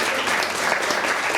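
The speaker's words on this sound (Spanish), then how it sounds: "Un aplauso." A classroom of students claps together in a dense, steady burst of applause that stays loud and even throughout.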